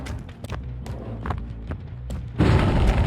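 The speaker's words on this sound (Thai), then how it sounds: "น้องเมฆทำอะไรระเบิดระเบ้ออ่ะ" A deep booming explosion in the video game Dead by Daylight bursts out near the end, loud and broad, after a stretch of low rumbling and scattered thuds.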